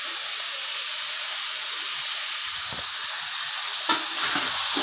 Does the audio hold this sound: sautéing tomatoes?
yes